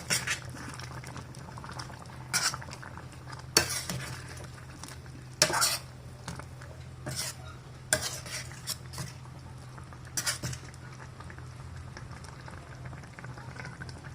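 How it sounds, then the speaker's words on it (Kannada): A spoon stirs village-style wild mango gojju in a pot, giving several scraping, clinking strokes against the metal over a low steady background, close by and with no talking. "ಇವಾಗ ಸ್ಪೂನಿಂದ ಒಂದ್ಸಲ ಮಿಕ್ಸ್ ಮಾಡ್ಕೊಳ್ಳೋಣ."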